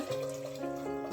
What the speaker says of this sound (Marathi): यामध्ये आपल्याला 2 ग्लास पाणी ओतायचंय.